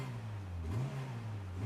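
A Honda Integra Type R engine revs through its induction, a low steady intake drone that swells briefly in a quick blip before settling, heard from close by at modest level.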